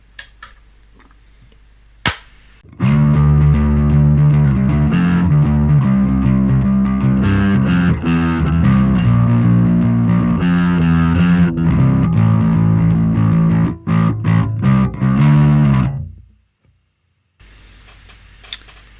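Heavily distorted bass guitar riff through a Fender Pugilist Distortion pedal in a Line 6 Helix effects loop, played loud and steady, with a gritty, saturated tone and sharp note attacks, ending abruptly before a short quiet tail.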